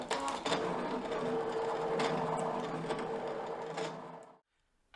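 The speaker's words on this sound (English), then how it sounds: "This will go ahead and cut into your vinyl." A Brother ScanNCut cutting machine cuts a vinyl sheet with a steady, loud mechanical whir and buzz that runs for about four seconds, then stops abruptly, leaving near silence.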